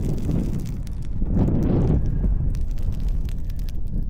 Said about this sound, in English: it's a pretty windy day out here